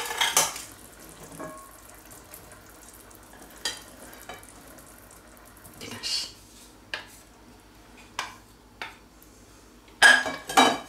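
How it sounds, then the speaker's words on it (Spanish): Broad beans, already cooked, stirred gently into a tomato and ham sauce in a pan, giving soft scraping and occasional clinks of spoon against pot with a low sizzle, in a few separate bursts rather than a steady run. "Y ahora removemos con cuidado"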